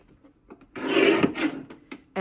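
A paper trimmer slices a single sheet of gold scrapbook paper in one steady rasping stroke lasting about half a second, close and fairly loud, framed by small handling sounds.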